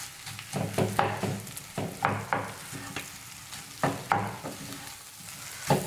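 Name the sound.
mixing tapioca egg masala in a pan with a spatula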